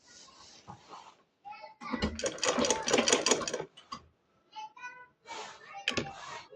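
A sewing machine stitches a salwar in one busy two-second run, with shorter bursts later, while someone talks in between.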